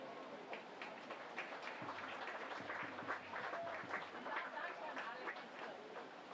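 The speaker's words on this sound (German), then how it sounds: "Vielen herzlichen Dank und einen großen Applaus." Crowd at a swimming competition in Basel applauding, a faint, distant, reverberant patter of clapping with chatter in a large indoor pool hall.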